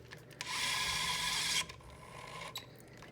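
A KDS electric screwdriver with a built-in torque transducer drives a screw with a steady whirring buzz lasting about a second, ending in a brief clack, followed by lighter mechanical clicks and rubbing.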